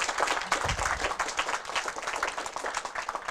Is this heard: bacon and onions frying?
no